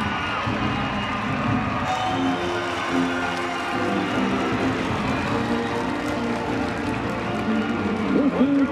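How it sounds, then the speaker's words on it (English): A college lacrosse crowd at an NCAA quarterfinal between Rutgers and UNC roars after a goal, sustained loud cheering, shouting and whoops from a large stadium audience, with commentary voices underneath. "The freshman whips this crowd into a frenzy."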